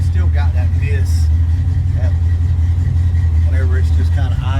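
A Foxbody car engine idles with a misfire, a heavy, steady low rumble that stays constant throughout, while people talk over it inside the car.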